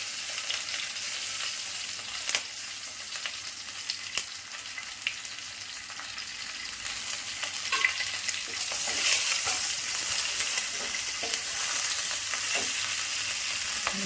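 Green chillies fry in hot oil with a steady sizzle, a continuous hiss with occasional crackles and pops, close by and fairly loud, no voices.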